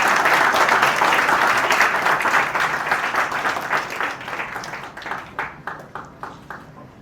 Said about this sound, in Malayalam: ഓഡിയൻസ് നല്ലൊരു കയ്യടി കൊടുക്കാം.